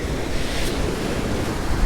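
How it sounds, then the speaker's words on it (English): Ocean waves splash on a beach along the Strait of Juan de Fuca, a steady, loud wash of surf mixed with wind buffeting the microphone, with no voices. "The waves splashing behind you."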